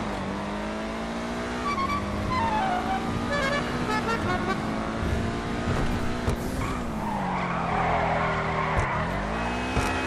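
Benefactor SM722 supercar in GTA Online driving at speed with a steady engine drone that shifts pitch through gears, then tires skidding and squealing loudly near the end, alone without talk.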